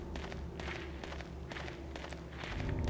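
Footsteps from the video game Silent Hill 2 patter in a steady walking rhythm over a low droning ambient bed, with the background swelling slightly louder near the end.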